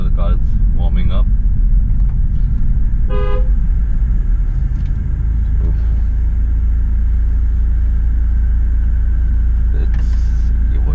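A BMW F30 320i with the B48 engine and FTP charge pipes, still warming up, drives around a residential neighbourhood: a steady, close, low engine rumble and road drone run throughout, with a brief horn toot and someone talking over it.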